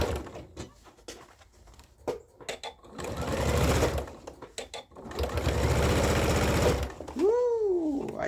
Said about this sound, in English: Now when I'm doing my edge stitch, I tend to extend my stitches a bit.